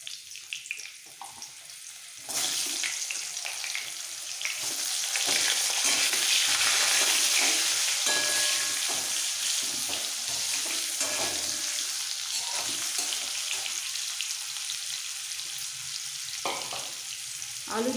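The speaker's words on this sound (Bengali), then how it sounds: "ফোড়নটা একটু ভাজা হয়ে গেলে দিয়ে দেবো এর মধ্যে আলুর টুকরোগুলো।" Potato pieces frying in hot oil with nigella seeds, a quiet start giving way to a sudden loud, steady sizzle with occasional stirring scrapes, close by and without talk.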